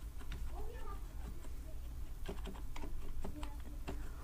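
Someone types a search into a computer keyboard, with a run of light, close key clicks in an uneven rhythm over a steady background hum.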